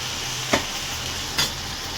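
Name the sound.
stirring gongura leaf chutney in a pan after adding salt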